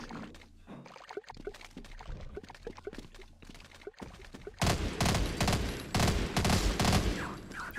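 Gunfire in the video game Half-Life, with scattered shots at first, then a dense, loud burst of rapid firing and impacts in the second half.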